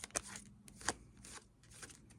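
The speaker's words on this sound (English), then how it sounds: "So I'll do a little bit of an overhand shuffle." Crisp riffling snaps of playing cards in an overhand shuffle by hand, a few sharper flicks among softer papery rustles, close and fairly quiet.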